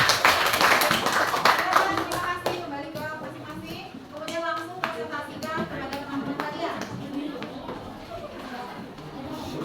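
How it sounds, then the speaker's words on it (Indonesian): A classroom of students applauds the expert team, with loud, dense clapping at first that thins into scattered claps while children's voices chatter and shout over it. "Kita kasih aplaus untuk tim ahli."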